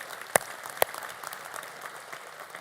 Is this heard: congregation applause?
yes